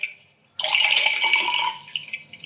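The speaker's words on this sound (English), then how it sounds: "Excuse me while I just pour some more water." Water pours into a drinking glass in a close, steady splash lasting about a second, then trails off into a few faint drips and trickles.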